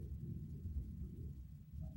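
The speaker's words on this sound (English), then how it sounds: "it's a distant thunder." Distant thunder rolling as a faint, continuous low rumble with no sharp crack, heard alone without talk.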